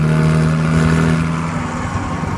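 VW Jetta diesel engine revving hard while rolling coal out of a hood stack, a loud, steady close-up drone with a strong low hum that eases slightly toward the end.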